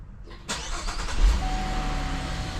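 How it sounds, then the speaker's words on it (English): A Chevrolet Impala engine cranks briefly and catches, then settles into a steady, fairly loud idle heard close up, with no talking, just after throttle body cleaning and purge valve replacement. "we start the engine,"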